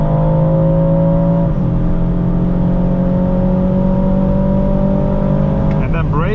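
An Aston Martin DBX 707 on a German autobahn roars at full throttle, its loud engine note rising steadily and holding strong for several seconds, with a brief dip near the start and a shift toward the end.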